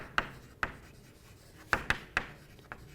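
Pen or marker strokes on a board while working a JEE straight-lines maths problem: a handful of sharp, irregular scratchy taps, close and fairly quiet, with no talking.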